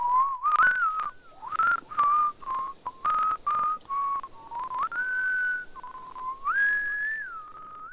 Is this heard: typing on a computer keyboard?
no